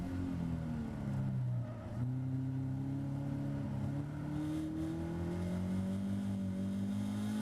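A Caterham race car's engine drones through a lap of the Donington Park circuit, a steady mid-pitched roar that rises gradually in pitch after a brief dip, heard alone and at moderate level.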